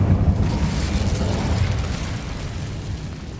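A fire spell blast in the Hogwarts Legacy video game: a loud, deep, rumbling burst of flame that holds steady and then slowly fades, with no talking.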